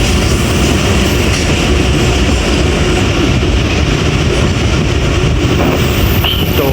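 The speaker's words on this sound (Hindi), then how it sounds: "12:20 हो गए हैं और 10 मिनट डिले के साथ 8 डाउन तेज़गाम गुजरांवाला पे अप्रोच बना रही है।" Tezgam 8 Down express train pulling into Gujranwala station, a loud continuous rumble of railcars and wheels on rail that holds steady throughout with no talking.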